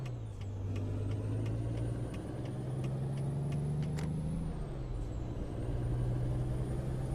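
Peterbilt 389 truck engine in American Truck Simulator, a steady low diesel drone that shifts pitch as it revs, with brief hiss bursts like air brakes over it, loud and continuous with no talk.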